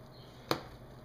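A single sharp knife chop through watermelon, one crisp strike standing out clearly over a low steady background hum.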